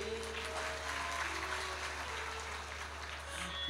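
Audience at a Hindu devotional discourse giving continuous applause, a dense even patter of clapping heard from a distance at moderate level with a low hum underneath.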